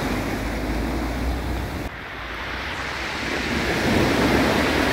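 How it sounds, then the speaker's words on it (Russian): Sea waves roll in and break over small pebbles on a deserted Abkhazian shore, a continuous loud wash of surf with brief quieter dips, close by and without voices. "Волны накатываются, бьются о камушки."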